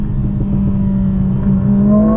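A 4-cylinder performance car engine revs and accelerates, its loud droning note climbing steadily in pitch, heard up close with no talking.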